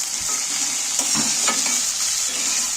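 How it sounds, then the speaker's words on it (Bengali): Onions and chopped tomatoes fry in a pan for a chicken dish with nuts, a steady close sizzle with a few scraping stirs of the spoon across the pan. "সেই টমেটো কাটাগুলো আমি পেঁয়াজের সাথে তুলে দিচ্ছি আবারও নাড়তে থাকবো"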